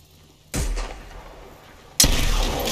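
Two heavy weapon shots in a shooter video game, each a sudden loud blast with a booming tail, spaced about a second and a half apart.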